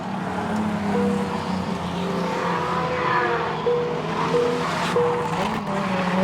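Speedway race cars lap a dirt oval at the Cullen Bullen 47 lap memorial race, their engines roaring steadily with revs rising and falling as cars pass, tyres squealing faintly, and a constant loud drone with no voices.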